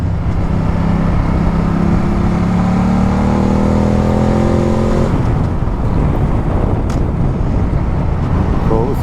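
A motorbike on a road trip through Bulgaria accelerates hard, its engine note climbing in rising sweeps before a gear change, then a loud steady roar of engine and wind rush up close.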